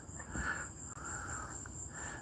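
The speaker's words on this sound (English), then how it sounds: "There's crickets and birds and everything." Crickets chirp outdoors in a steady, continuous high trill that stays soft and even under a faint low background hum.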